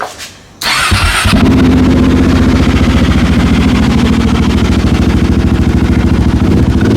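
A motorcycle engine kicks over and then idles steadily in neutral, a loud, close, even chugging that holds for several seconds with no talk over it.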